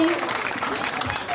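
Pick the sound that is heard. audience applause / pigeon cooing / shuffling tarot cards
audience applause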